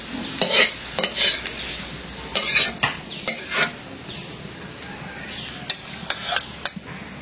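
Potatoes with egg stir-fried in a pan, a spatula scraping and clacking in irregular bursts over a soft, steady sizzle, close by, with no talking.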